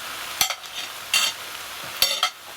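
Sliced leeks seasoned with salt are stirred in a pan, giving three or four soft scraping strokes with a faint sizzle underneath, close and quiet, with no voice.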